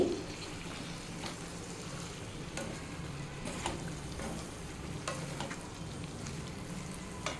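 Chopped onion and green chillies sizzle steadily in a hot pan, a soft continuous frying hiss broken by several spoon-stirring scrapes, quiet and close with no talk.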